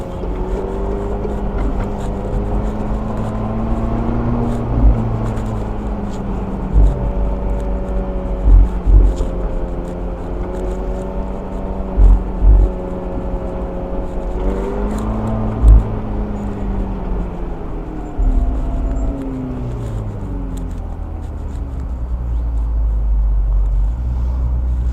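A McLaren 720S Spider driving in sport mode gives a steady, loud engine drone that rises and falls with several gear-shift pitch sweeps. A few low thumps come through the cabin, and no one speaks.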